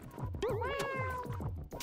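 A cartoon cat gives one long, wavering, drawn-out meow, loud and close, over a rhythmic low background.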